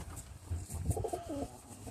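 Roller pigeons in a loft coo in soft, low, throaty bursts, close by, with a couple of rolling calls over quiet background air.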